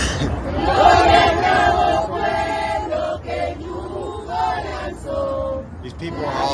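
A political rally crowd cheers and chants in a played-back recording, a loud, swelling roar of many voices with shouted calls rising and falling throughout.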